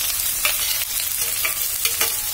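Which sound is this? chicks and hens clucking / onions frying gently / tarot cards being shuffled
onions frying gently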